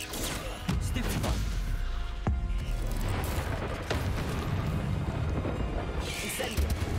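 Stupefy spell cast in the Hogwarts Legacy video game, heard as a sharp magical burst amid a dense run of impacts, crashes and mechanical clatter, with spoken voice partly over the action.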